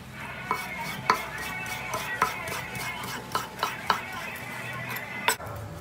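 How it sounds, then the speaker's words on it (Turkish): Partly frozen chicken breast being finely chopped with a knife on a board, a series of sharp irregular knocks over a faint background clatter. "Tavuklarımızı çok ince doğrayacağız."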